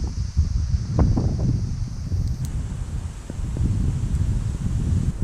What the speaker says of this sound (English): It's a little windy here at the moment.